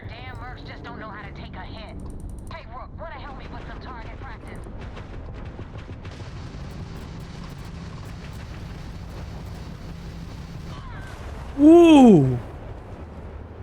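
A heavy grenade launcher fires in the Starfield video game, a loud booming burst near the end with a falling whine, after quieter gameplay sounds and a voice exclaiming.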